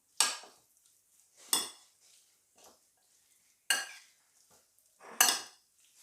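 A utensil stirs a mackerel tartare with ricotta, red onion and basil in a bowl, making four or five separate scraping, clinking strokes with quiet pauses between them.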